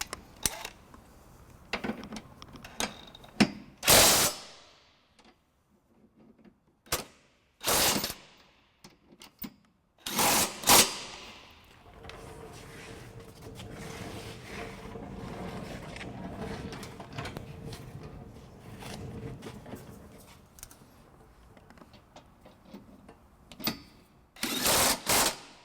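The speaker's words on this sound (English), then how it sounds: "we'll just snug them up with the drill motor here" A drill motor driving a 19mm socket snugs hitch bolts on a 2009 Scion xB, with several loud, short whirring bursts split by quiet pauses and one longer, softer stretch of running.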